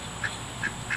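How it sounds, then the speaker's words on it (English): Khaki Campbell and Welsh Harlequin ducks give three short, evenly spaced quacks over a steady background hum, moderately close and with no talk. "Ducks, they're funny."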